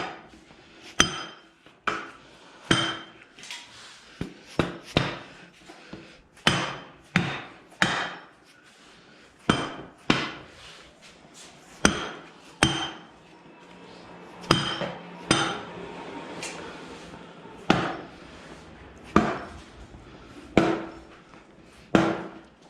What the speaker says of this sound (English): I have to give it a couple taps gently with a hammer to get it to set.